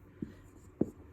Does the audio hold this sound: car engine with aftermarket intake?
no